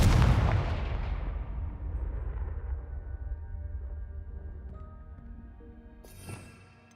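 A Confringo blast spell in Hogwarts Legacy goes off with one loud explosive boom at the start, then a long rumbling decay with lingering ringing tones and a smaller burst near the end.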